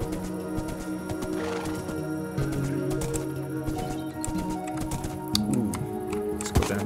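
Minecraft donkey sounds: game braying and whinny-like calls with hoof-like clip-clop steps and soft squishy ground noises, fairly quiet, with no talking.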